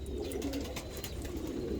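English breed pigeons, just arrived from travel, coo steadily and close by with a soft, low, continuous murmur and no talking.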